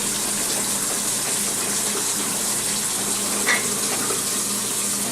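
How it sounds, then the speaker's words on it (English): Chicken pork adobo simmering in a pot, giving a steady, even bubbling hiss with no breaks, close and moderately loud throughout. "Now if you see here, it's already simmering."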